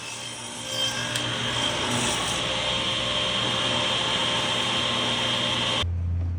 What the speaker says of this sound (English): I took small cuts and worked my way up to the marks for my rabbet with a standard width blade.